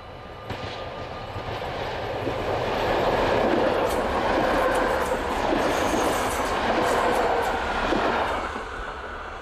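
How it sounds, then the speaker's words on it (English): A freight train, numbered 1612, rumbles steadily northbound on the rail line to Meppel, its continuous wheel and wagon noise swelling and holding loud for several seconds as it passes close by. "Freight allocated number 1612 heads north on the line to Meppel."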